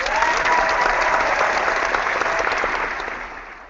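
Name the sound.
audience applause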